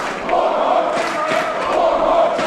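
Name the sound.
wrestling crowd cheering for Warhorse Jake Parnell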